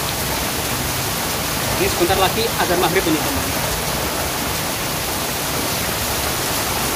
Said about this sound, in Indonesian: Dan hujan semakin deras banget.